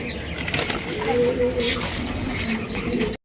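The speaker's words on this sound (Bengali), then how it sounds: "এখানে রয়েছে অস্ট্রেলিয়ান ঘুঘু দেখতেই পাচ্ছেন" Australian doves at a pigeon market give soft, low cooing against busy background noise and a rustle of wings, with people talking nearby.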